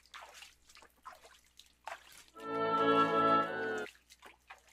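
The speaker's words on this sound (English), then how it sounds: "Don't mind me just pouring water while we hear water noises" Water pouring from the video game What Remains of Edith Finch, a steady trickling stream lasting over a second that rises in pitch as a vessel fills, preceded by faint drips and soft ambient sounds.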